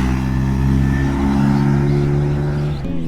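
Motorcycles roaring past in a fast fly-by on a group ride, a loud, steady, near engine drone with rising and falling revs throughout, ending with a slight dip as the bikes pass.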